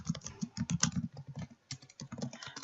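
Typing on a computer keyboard while writing C# code in Visual Studio 2013, a quick irregular run of close key clicks with a short pause midway.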